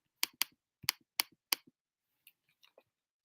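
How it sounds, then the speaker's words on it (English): A few quiet, sharp keystrokes on a computer keyboard come in a short burst, followed by scattered fainter taps. "I'm just typing it."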